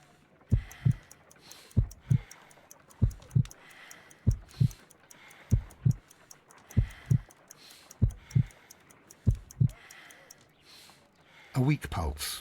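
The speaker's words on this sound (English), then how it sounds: "I need to concentrate and count the heartbeats." Heartbeat in Sherlock Holmes: Crimes & Punishments, a slow, deep double thump repeating about every second, loud and clear above a quiet background, ending in a brief burst of other noise.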